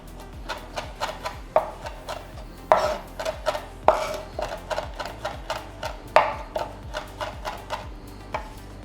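Chef knife rapidly mincing garlic with salt on a cutting board, a steady stream of quick close chopping taps with a few harder thumps, no talking.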